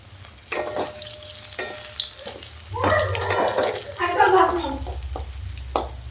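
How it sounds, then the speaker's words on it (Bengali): Boiled potatoes frying in hot oil for an egg curry, a constant crackling sizzle broken by repeated spatula scrapes and turns, close up, with a brief murmur in the middle. "সেদ্ধই আলু, এমনি আলু না, তাও ওকে ভালো করে রেড করে ভেজে নিচ্ছি।"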